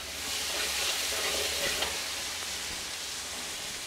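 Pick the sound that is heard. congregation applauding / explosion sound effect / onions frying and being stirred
onions frying and being stirred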